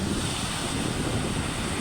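Large sea waves churn during a typhoon, a steady loud roar of surf mixed with heavy wind buffeting close to the microphone, with no voices.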